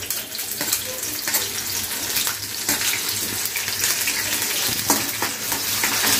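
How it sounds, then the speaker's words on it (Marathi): Green chillies fry in two ladles of hot oil while being stirred, a loud, continuous close sizzle broken by scraping stirs, with no talk. "चांगली हलवून घेऊया मिरची. चांगली फ्राय झाली की मग आपल्याला यामध्ये लसूण घालायचं आहे."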